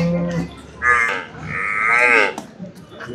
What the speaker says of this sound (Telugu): జాఫరాబాద్ గేదెలు ఇవి రెండు.